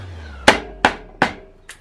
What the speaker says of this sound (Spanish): es que coges así el martillo